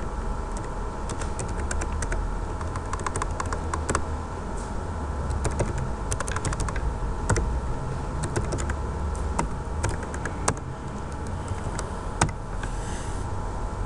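Steady rapid clicking of C# code being typed on a computer keyboard, close and fairly loud, with irregular bursts of keystrokes and occasional harder key taps over a constant background hum.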